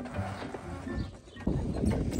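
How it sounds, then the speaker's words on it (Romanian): A horse's hooves clip-clop outdoors in rural Romania as a boy heads off to feed and work with it, a steady hoof rhythm mixed with rustling and background noise, fairly close. "Di, căluță, di!"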